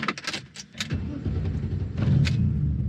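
A 1992 BMW 535i E34 with a manual gearbox is started with its key: a few metallic key clicks and jingles up front, then the engine cranks and settles into a steady, loud low idle.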